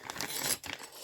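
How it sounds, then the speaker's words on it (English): A plastic packet of crochet hooks being opened, crinkly rustling and crackling, close and fairly loud, continuous with a brief dip partway through. "I don't really want the noise of the packet in the video."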